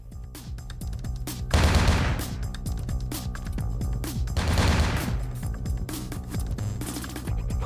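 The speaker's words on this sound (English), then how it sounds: "Who's shooting?" Gunfire in Vampire: The Masquerade - Bloodlines, with bursts of rapid shots and heavy crashing volleys that swell twice and recur over a steady background, fairly close and loud.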